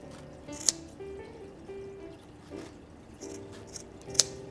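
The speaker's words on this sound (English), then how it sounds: "I'm going to take my scissors and I'm just going to cut the loops" Scissors snip through yarn loops on a handmade boho macramé wall hanging, giving two crisp, quiet cuts several seconds apart in an otherwise soft, still room.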